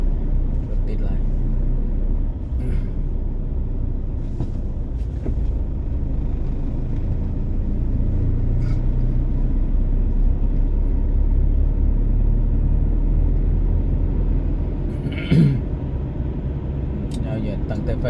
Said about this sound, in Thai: รถติดหลาย